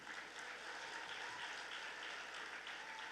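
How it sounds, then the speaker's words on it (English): Steady applause from an audience fills the whole stretch at an even level, heard from a distance and fairly quiet, with no speech over it. "Let's give her a big round of applause,"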